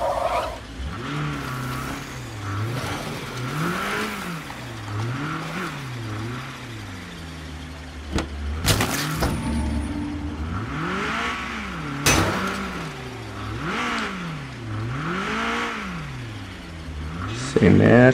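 A car in the zombie-survival game State of Decay 2 drives along with its engine rising and falling in repeated revving swells, broken by a few sharp skids and tire squeals, fairly loud throughout.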